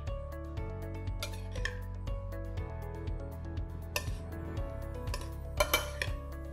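Feta cheese salad with lime juice gets mixed in a bowl, producing soft scattered clinks and scrapes of utensil against dish, faint and close, over a quiet steady background hum.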